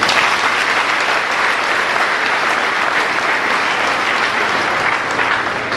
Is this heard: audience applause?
yes